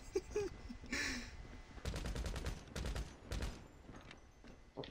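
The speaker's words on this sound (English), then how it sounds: "Getting shot at." Rapid volleys of gunfire in GTA 5 ring out in tight, evenly spaced shots, grouped into several bursts at fairly low volume, with faint voices in between.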